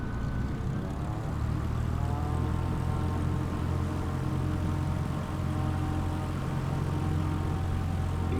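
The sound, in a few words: light aircraft taking off from runway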